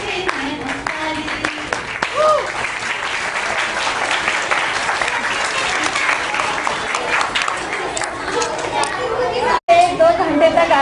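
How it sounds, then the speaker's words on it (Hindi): An audience claps at a school annual function, a broad, steady roar of hands lasting about ten seconds, mixed with crowd chatter, children's voices and a talking voice. "जब हम खुश होते हैं देते हैं हम ताली।"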